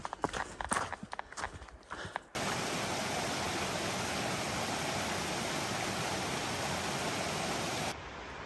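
A waterfall at Cooper Brook Falls Lean-To on a wilderness trail gives a steady broadband rushing roar, continuous and fairly near, preceded by a couple of seconds of footsteps and handling noise.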